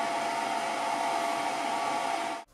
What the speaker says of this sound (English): The power supply is standalone, and even at idle, it's quite loud,